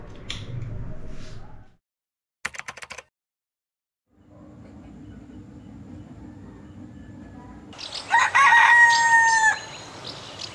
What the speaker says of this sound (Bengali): মোরগের ডাক শুনতে পেয়ে গেছি